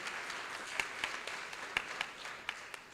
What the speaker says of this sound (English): A round of applause for these great partners.